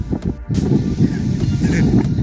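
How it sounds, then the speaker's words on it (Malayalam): Strong wind roars steadily against the microphone at a hillside resort in Munnar, a dense low rumble with gusty swells and no clear voices throughout. "അതുപോലെ കാറ്റാണ്"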